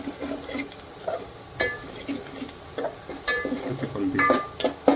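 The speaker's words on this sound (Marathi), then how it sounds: "बेसन पीठ आपल्याला लाल होसपर्यंत भाजून घ्यायचे आहे" Gram flour (besan) dry-roasting in a pan for Kolhapuri misal, heard as repeated scraping and stirring strokes with light metallic clinks of a spoon against the pan, close and fairly loud, with a faint low sizzle underneath.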